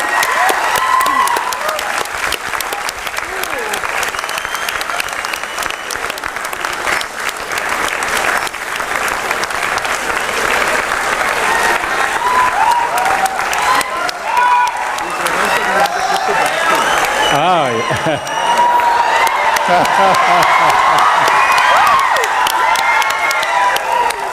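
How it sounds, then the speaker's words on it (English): Audience applause and cheering for the winners at the SmartIDEAthon 2023 awards event at GITAM, a sustained dense wash of clapping from a crowd lasting throughout, with voices shouting and talking underneath. "Give a huge round of applause for them"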